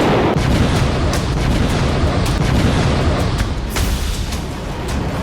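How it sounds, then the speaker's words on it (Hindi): Continuous loud, dense rumbling booms of cluster bomb explosions from an Iran–Israel attack, a sustained roar of blasts with scattered sharper cracks throughout, no voices. "आठ दिन में पहली बार क्लस्टर बम का धमाका।"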